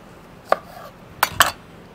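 A kitchen knife slices a Brussels sprout in half on a cutting board, making three sharp, close taps in quick succession with quiet between them.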